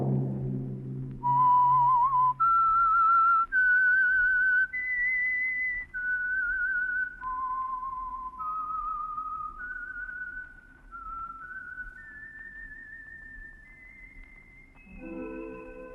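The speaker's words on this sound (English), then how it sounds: "Let that whistle be your signal for the Signal Oil program, The Whistler" A clear, solitary whistled melody, the theme of The Whistler radio program, glides through a sequence of sustained notes that rise and fall, ending as a band chord enters.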